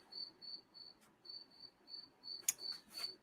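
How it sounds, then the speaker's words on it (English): A loud cricket chirps inside a workshop, sending out steady, evenly spaced shrill pulses in short bursts, with a couple of faint clicks and no speech. "there's a loud cricket in here"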